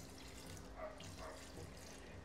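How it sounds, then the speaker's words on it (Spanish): Water is poured into a pressure cooker holding chicken gizzards, a faint, continuous trickling gush with soft surges, heard alone without speech. "Vamos a introducir el agua."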